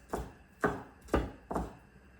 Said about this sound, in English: just chop the garlic into small pieces